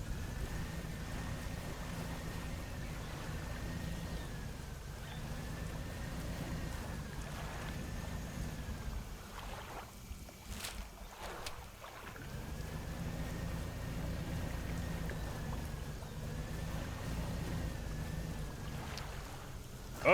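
Small fishing boat motoring steadily across open water in the video game Dredge, a continuous low engine drone with wash and wind, briefly dipping quieter midway before resuming, no talk.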